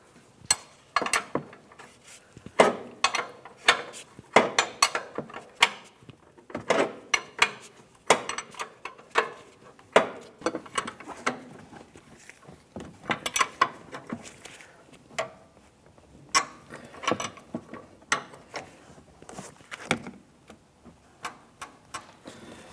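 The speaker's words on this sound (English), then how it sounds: "Now for these, I'm just going to go ahead and use a wrench. We'll make them nice and tight." Sharp metallic clicks and ratchet ticks come in uneven bursts as a wrench tightens 21mm nuts on the upper control arm of a 2002-2005 Ford Explorer, close and fairly loud, with no talking.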